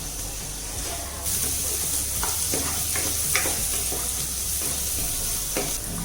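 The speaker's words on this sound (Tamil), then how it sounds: "ஹை ஃப்ளேமில் வச்சு ஒரு நிமிஷத்துக்கு வதக்கினா போதும்" Capsicum sautés for Maggi in a pan over a high flame. A steady loud sizzle runs throughout, with intermittent scraping stirs on top.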